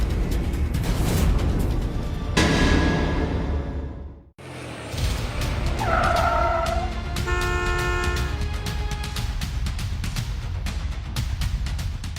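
A car horn toots outside over loud, busy background noise, with a brief dip in the noise before the scene carries on.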